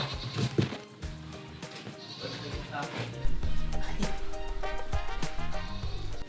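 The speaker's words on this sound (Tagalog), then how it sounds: "dito yung mga baboy ito" Native pigs squeal and grunt in a farm pen, loud repeated bleating-like calls close by, with people talking over and between them.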